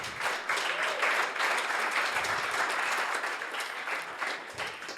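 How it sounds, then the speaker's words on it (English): An audience at a pitch competition gives a sustained round of applause, dense and even clapping that stays loud throughout with slight dips in intensity. "Let's give a round of applause."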